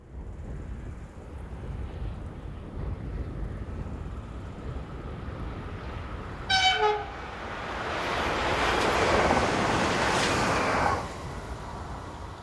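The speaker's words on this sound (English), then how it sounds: "This is a local service from Chalon-sur-Saône to Mâcon, with unit number 27546 in charge." A French electric multiple unit on the Mâcon to Chalon-sur-Saône main line rumbles past, giving one short horn toot midway, then a rising roar and rush of wheels and air as it passes close by before fading.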